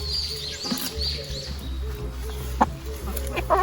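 Free-range African chickens fed on sweet corn stalks cluck and chirp near the microphone in short, scattered calls over a steady low background, with a few brighter bursts toward the end and some people talking nearby.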